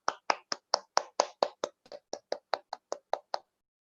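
A student speaker's audience claps in short, evenly spaced beats, about sixteen crisp sharp strikes in a steady rhythm, close and clear with no voices.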